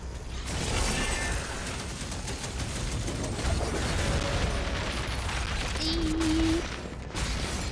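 Rocket launcher fire and explosions in DOOM: The Dark Ages: a dense, continuous barrage of blasts and mechanical clatter, loud and steady throughout.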